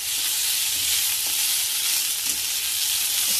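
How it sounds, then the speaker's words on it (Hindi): Peas dropped into a hot pan for a healthy kathi roll filling hiss in a steady close sizzle, with faint stirring scrapes and no one talking. "तो अब मैं डाल रही हूँ मटर"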